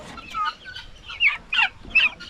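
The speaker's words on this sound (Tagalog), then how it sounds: "Sisiw ng manok." Chicken chicks give a few high, sharp peeps and cheeps in quick bursts, close by, with no talking.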